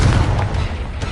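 The Confringo explosive spell goes off in the Hogwarts Legacy video game as a loud, booming burst with a rumbling low-end tail that fills the short moment, with no talk over it.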